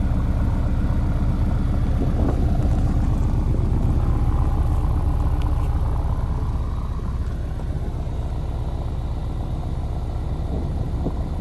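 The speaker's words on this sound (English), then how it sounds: "I'm excited to go for a drive now to see how the supercharger kind of stands out." A supercharged Subaru BRZ drives along with a steady, loud engine drone and road rumble dominating throughout, the low throbbing tone holding constant with no pauses.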